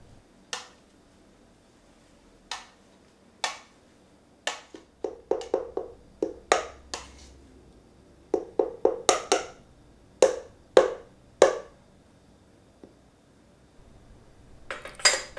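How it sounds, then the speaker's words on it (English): Boiled potatoes for Norwegian lefse are mashed in a kitchen, producing sharp, separate clinks and taps of a utensil against a bowl, scattered at first and then coming in quick clusters, with quiet gaps between. "Then mash the potatoes."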